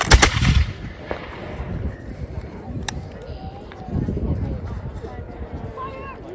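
A volley of 18th-century muskets fired by reenactors, one sharp loud crack at the start with a trailing rumble, followed by quieter outdoor crowd noise, shuffling and a few distant pops.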